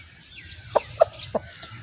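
A Pakistani Aseel rooster gives three short, distinct clucks in quick succession, close and fairly loud over a quiet background hum.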